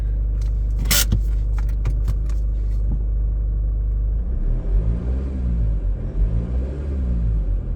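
A Kia Sorento's engine rumbles steadily, then rises in pitch as it revs and accelerates twice, with a few light clicks and jingles early on.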